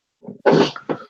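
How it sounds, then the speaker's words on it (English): A person gives a short, rough cough, one soft hack followed by a louder burst and a brief trailing cough, heard close up. "No, I just have this cough now."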